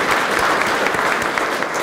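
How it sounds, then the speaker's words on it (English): Audience at a transit-oriented development event gives a steady round of applause, dense and continuous throughout, with no voices over it. "I'd like to give her just a round of applause"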